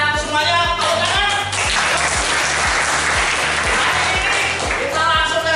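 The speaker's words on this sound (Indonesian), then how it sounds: "Tepuk tangan." Classroom of children applauding together, a dense, loud burst of clapping lasting several seconds, with a faint rhythmic thumping underneath and no speech over it.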